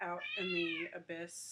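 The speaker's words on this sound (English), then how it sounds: "that was my cat in the background" A cat meows from the background in a drawn-out, rising and falling call, blended with a person speaking nearby.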